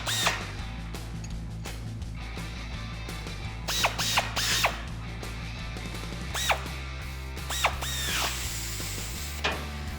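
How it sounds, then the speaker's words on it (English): Ratchet socket wrench tightening 16mm bolts on a Silverado 1500 front bumper, quick clicking pawl strokes in short bursts with pauses between, close and crisp over a low background hum. "Now with a 16mm wrench and a 16mm socket, we're gonna tighten these down."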